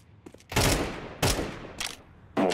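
Bursts of automatic gunfire from Counter-Strike 2: three loud rapid volleys plus a brief fourth at the end, with a couple of faint shots before them and no talk.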